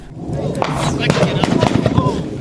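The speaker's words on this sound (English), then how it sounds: "Listen closely as bullets pass overhead from a rifle heavier than a Kalashnikov." Rifle bullets from a firefight pass overhead as sharp cracks and snaps scattered over a noisy, windy outdoor background, several quick reports close together at moderate loudness.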